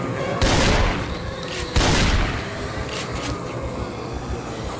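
Two loud, booming shotgun blasts about 1.4 seconds apart in the survival game Project Zomboid, each a sharp broadband crack with a rumbling tail, over steady background game ambience.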